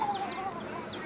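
Faint chicken clucks and short squawks over a quiet background, brief and somewhat distant.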